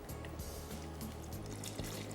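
Water pours steadily into a pot of urad dal and mutton, a continuous close trickling and splashing that fills the whole stretch without pause.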